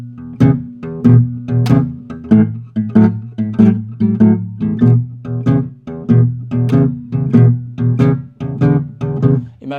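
A palm-muted electric guitar chugs a steady 12-bar blues shuffle in E, thick and damped low notes in a loping swing pattern, played alone and up close.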